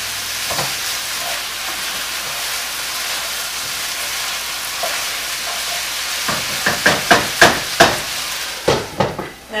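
Vegetables, shirataki noodles and tofu stir-fry in sesame oil with curry, a steady loud sizzle throughout, joined near the end by a run of rhythmic scraping stirs of a utensil against the pan, close up.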